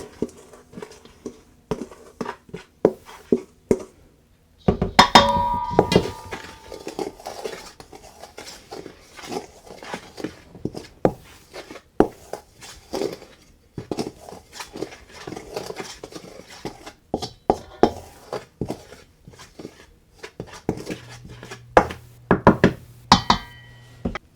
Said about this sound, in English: We'll just mix the flour and the yeast and salt a little bit.